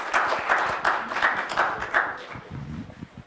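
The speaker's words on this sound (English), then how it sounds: "Let's give Miss Amy Small a round of applause." An audience at a Jacksonville Youth Council meeting gives a round of applause, a brief burst of many hands clapping that peaks early and tapers off as a few voices begin murmuring underneath.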